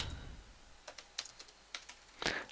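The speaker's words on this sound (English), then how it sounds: "and type your password correctly" Keys tapped on a computer keyboard while a password is entered, a short run of separate clicks at an uneven pace that ends in a quick cluster, close and fairly quiet, with no voice.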